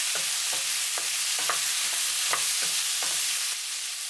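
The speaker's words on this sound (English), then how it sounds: "Add the pineapple and the cherry tomatoes. Stir another 20 seconds." Pineapple and cherry tomatoes stir-fried with fish in a hot pan, under a loud, steady hiss of frying, with rhythmic utensil scrapes and taps about every half second, close and with no speech.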